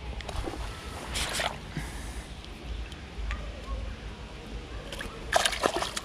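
A hand splashes and sloshes in water in a couple of short, fairly faint bursts, with quiet background noise between them.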